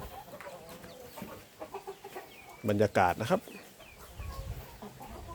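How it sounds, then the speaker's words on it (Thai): Young fighting chickens clucking in a pen, scattered calls near and far, with a voice speaking briefly in the middle. "มาดูชมไก่อีกชุดหนึ่งนะครับ เป็นไก่เด็กนะครับ"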